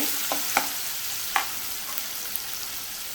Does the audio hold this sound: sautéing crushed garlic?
yes